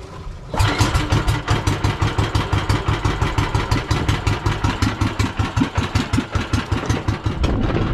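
A boat engine cranks and catches, then runs in a loud, rapid rhythmic chugging idle close by, continuing steadily without pause.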